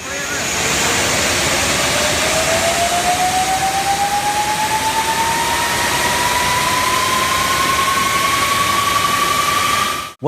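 A Rolls-Royce RB211 jet engine on a Boeing 747 during a damp start, a loud broad roar with a thin whine that rises steadily in pitch throughout, continuous and close with no voices.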